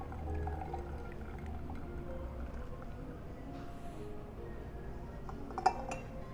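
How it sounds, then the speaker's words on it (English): Hot water pours steadily into a Hario V60 pour-over dripper with a paper filter, a continuous trickling wash with a faint glassy clink near the end. "I need to pour at least 150 grams of hot water in here to rinse away any paper fibers"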